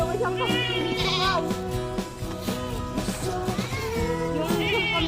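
Goats bleating nearby on a farm during an onion harvest, several wavering cries at irregular intervals over a steady low background, with people talking between them.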